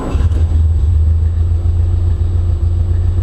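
A 1973 VW Super Beetle with 40 IDF carburetors, engine already hot, settles into a steady low rumbling idle, loud and close, with no talk over it.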